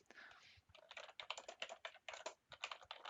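Quick bursts of keystrokes clatter on a computer keyboard while an answer is entered into an online assignment submission, close and fairly quiet, in irregular clusters with brief pauses.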